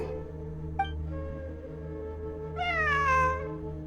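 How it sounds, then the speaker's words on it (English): Cat in the video game Genshin Impact giving a faint short chirp, then a clear drawn-out meow, heard alone over a low steady ambient hum. "It really is a cat."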